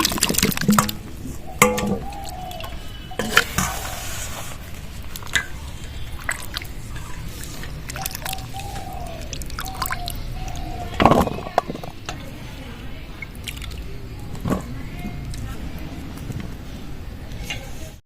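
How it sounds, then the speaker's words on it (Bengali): Squash being washed with water, with splashing, dripping and trickling along with handling knocks and clatter close by, and a brief louder splash partway through. "এবার কোয়াশগুলো ভালো করে জল দিয়ে ধুয়ে নেব"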